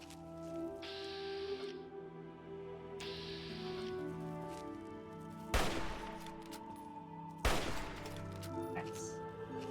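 Two sharp gunshots crack out a couple of seconds apart in Fallout 3, loud over a steady bed of droning game music and ambience.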